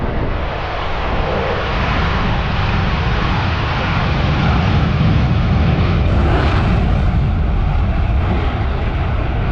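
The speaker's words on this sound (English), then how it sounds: "sheer power of the Pratt & Whitney motor as he climbs away from the deck." Loud, continuous roar of an F-35C fighter's Pratt & Whitney engine climbing away at an airshow, a dense broadband rush that stays steady and close throughout.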